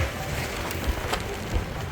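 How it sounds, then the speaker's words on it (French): Rain and strong wind at a small outdoor market beside a beach spot in Benalmadena, heard as steady broadband rushing with low wind buffeting on the microphone and a few louder gusts, no talk. "ça souffle, il y a du vent, il pleut"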